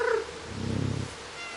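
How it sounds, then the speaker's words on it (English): Cat in the video game Stray, a drawn-out meow followed by a low rumbling purr, close and clear, no talk. "I don't think I really need to interact with these cats."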